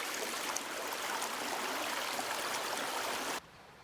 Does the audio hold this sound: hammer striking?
no